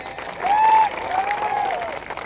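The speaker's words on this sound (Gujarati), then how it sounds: "એમનું આપણે તાળીઓના ગણગણાટથી એમનું આપણે સ્વાગત કરી લઈએ" An audience at a political gathering claps to welcome a guest, a short burst of applause that swells and then settles into steadier clapping, moderately loud with a faint tonal whine above it.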